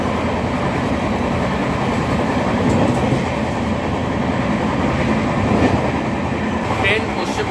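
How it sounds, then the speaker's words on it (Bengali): A passenger train pulls into Dhanbad station, a low continuous rumble of wheels and carriages with faint rhythmic clacking, heard from on board. "আমাদের ট্রেন এই মুহূর্তে এসে পৌঁছেছে ধানবাদে।"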